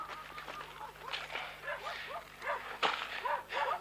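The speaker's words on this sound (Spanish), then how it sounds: "los perros que están ladrando desde cercanías de la ruta" Several dogs bark near a road, a chorus of repeated, overlapping barks at middle distance with a faint steady hum underneath.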